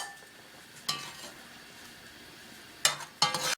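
A spoon stirs Haitian vegetable stew (legume) in a pot, producing a few brief scraping, clinking bursts against quiet near-silence.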